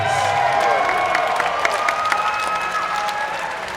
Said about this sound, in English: a big round of applause, please, for both of your main event fighters.